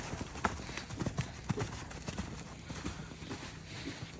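A horse canters on a lunge line, its hooves thudding in a rolling three-beat rhythm on soft ground, fairly faint, with occasional voice cues from a handler.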